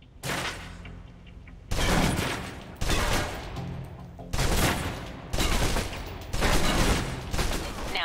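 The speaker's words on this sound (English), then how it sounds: "Now let's empty the clip. Let you get a feel for the recoil." Bursts of rapid submachine gun fire in the Alpha Protocol video game, emptying a full magazine in about five loud sustained volleys separated by brief pauses.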